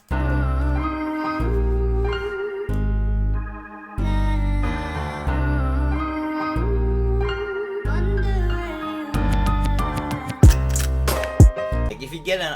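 Piano keys layered with an added organ in a dark trap-style beat made in FL Studio, sustained chords over booming low bass, ending with a few sharp percussive hits and rolls.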